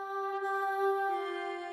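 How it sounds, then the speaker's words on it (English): Choir-like vocal pad run through a resonant auto filter in Logic Pro X, a smooth sustained synthetic chord with steady tones and a gentle shift in timbre partway through, heard alone without any voices. "Sort of like a choir,"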